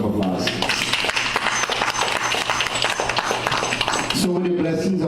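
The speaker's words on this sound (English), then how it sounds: "I think he deserves a round of applause." At a Sunday satsang gathering, a room full of people gives a student a round of applause, thick and even for about four seconds, then a voice begins speaking.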